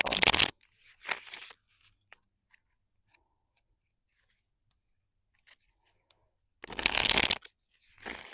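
Gilded Tarot cards being shuffled, with short riffling bursts at the start and a longer one near the end, separated by quiet gaps with faint card taps.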